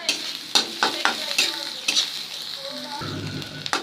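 Crushed ginger and five or six smashed garlic cloves sizzle in hot oil in a pan. Loud frying crackle runs throughout, with sharp stirring scrapes at irregular intervals.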